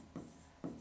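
Two short scratchy strokes of chalk or marker on a classroom board, each a brief rasp separated by a quiet pause, close and fairly soft with no talking.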